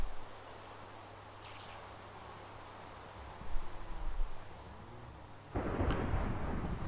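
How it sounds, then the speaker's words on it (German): A thunderstorm in the Minecraft video game: faint ambient hiss, then a low rumble swelling midway, and a louder broad crash of thunder rolling in near the end. "So, Gewitter läuft sehr schön."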